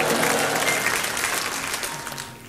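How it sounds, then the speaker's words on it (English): A concert audience at the 1974 Grand Gala du Disque cheers and applauds. Dense, steady clapping fills the whole stretch, with crowd noise under it, loud at first and easing slightly. "let me hear everybody cheer"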